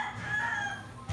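A rooster crowing once, loud and close, a sustained harmonic call that rises and then trails off, followed by a short low thump at the end.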